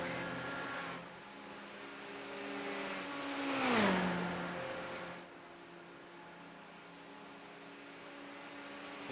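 Sim-racing GTE race cars at historic Le Mans cruise down the Mulsanne Straight, engines droning steadily, with one car's pitch sweeping down as it passes close by mid-clip before settling back to a steady hum.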